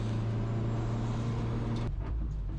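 Turbocharged Nissan Micra on a push lap at Donington Park amid other cars, its engine a loud, continuous close drone that drops in pitch near the end as it comes off the throttle.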